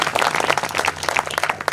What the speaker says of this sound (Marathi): टाळी वाजवा खरं तर.